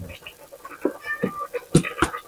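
A cat indoors on a cold day gives several short meows in a row, fairly close and moderately loud, with a few louder calls toward the end.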